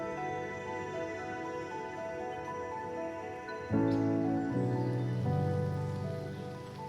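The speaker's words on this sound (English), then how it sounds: "some really low cloud decided to roll in, and it did start to rain" Rain falls outdoors under low cloud as a steady, even hiss of drops that swells slightly partway through, with a sustained tonal music bed running underneath.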